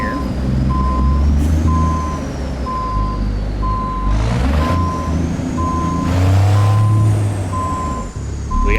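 An International Lonestar truck in American Truck Simulator sounds evenly spaced reversing beeps while backing a trailer, loud and close over a low diesel rumble, with a couple of short air hisses.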